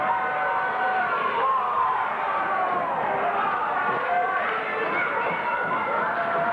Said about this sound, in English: The crowd really reacting to that move.